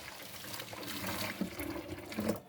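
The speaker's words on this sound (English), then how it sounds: "So inside the fogger we simply clean it with boiling water. Let it rinse." Steady running boiling water splashes and trickles while rinsing the inside of a terrarium fogger, a continuous rinsing wash with a few brief louder gushes near the end.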